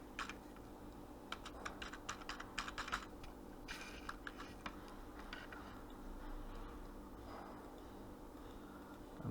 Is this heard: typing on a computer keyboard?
yes